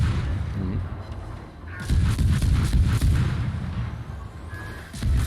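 Naval gun salvos from World of Warships, heavy booming artillery blasts with rolling rumble, loud and close, amid ongoing battle noise.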